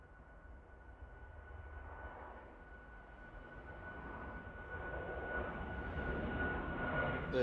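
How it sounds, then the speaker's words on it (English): A Ryanair airliner departs Manchester Airport, its engine roar steady and fairly distant, swelling gradually louder toward the end, with no voices. "Here's a Ryanair off to Malta."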